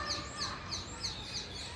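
Small birds chirp in a quick, repeating pattern of bright high notes, fairly faint over a hissy background.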